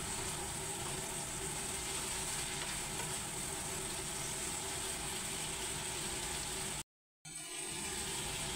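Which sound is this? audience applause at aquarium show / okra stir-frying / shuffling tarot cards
okra stir-frying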